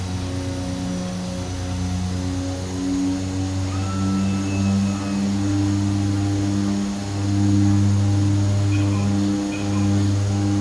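In a flight simulator, a Twin Otter seaplane descends to land in the Maldives, its twin propeller engines giving a steady, loud, droning hum with shifting tones throughout.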